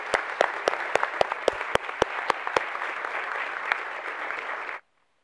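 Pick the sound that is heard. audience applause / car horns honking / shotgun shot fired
audience applause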